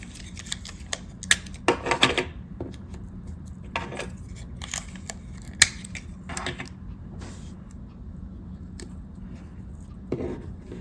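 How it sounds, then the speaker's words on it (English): Fabric pieces for a hand-stitched stuffed reindeer ornament are taped together, giving scattered sharp crackles and taps of tape being pulled and pressed, clustered in short bursts and close by, over a faint background hum. "So I'm just taping the body to the kind of these appendages."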